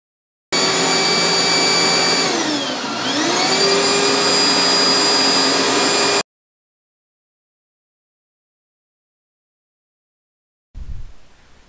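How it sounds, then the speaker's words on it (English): A vacuum cleaner runs loudly and steadily on a 2000 watt 12 volt DC to AC power inverter, its motor dipping briefly in pitch before recovering, then cuts off abruptly and leaves silence. "As you can see, the vacuum will remain on at all times."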